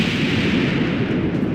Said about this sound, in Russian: В Fire мы получим взрывы.